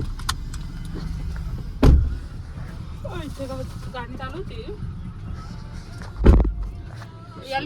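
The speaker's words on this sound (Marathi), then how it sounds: "आता फक्त गाडीच चालवा दुसरा काही नाही लास्ट पर्यंत गाडीच चालवा" A CNG-fuelled car drives along a road, with a steady low engine and road rumble heard from inside. Two heavy thumps break through, and a faint voice-like tone drifts in midway.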